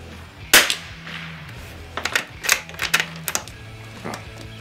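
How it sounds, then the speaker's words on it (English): A Christensen Arms Ranger carbon fibre rifle fires Winchester 42 grain hollow points at 30 yards, with a few sharp cracks spaced irregularly, the first loudest, amid quieter clicks and handling noise. "let's shoot at 30 yards and see how they perform"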